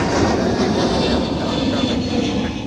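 A Delta heavy jet rolls for takeoff on runway 30 left at Minneapolis–St. Paul airport, its engines producing a loud, steady broadband roar with no voices over it.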